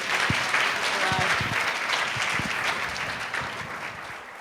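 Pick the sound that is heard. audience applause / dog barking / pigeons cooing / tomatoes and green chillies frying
audience applause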